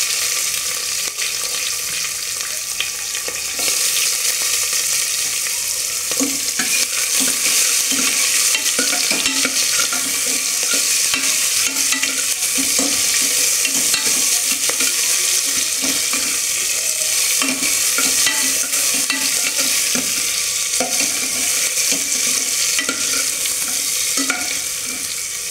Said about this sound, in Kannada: ಆನಿಯನ್ ಏನು ಫುಲ್ ಬ್ರೌನ್ ಆಗಬೇಕಂತ ಏನಿಲ್ಲ, ಜಸ್ಟ್ ಅದು ಸ್ವಲ್ಪ ಎಣ್ಣೆಲಿ ಫ್ರೈ ಆದರೆ ಸಾಕು.